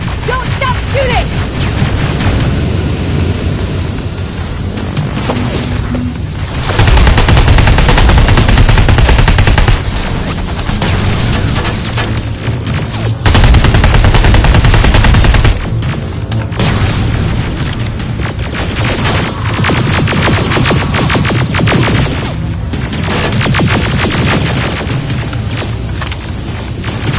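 Heavy gunfire rattles in the video game Terminator: Resistance, dense rapid bursts and booming blasts layered with a loud battle din, louder surges in two stretches, with shouted voices mixed in.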